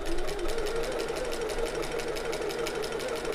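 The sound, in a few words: sewing machine stitching fabric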